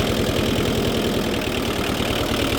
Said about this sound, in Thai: ปลดเกียร์ว่างก่อนเดี๋ยวสตาร์ทเครื่องนะครับ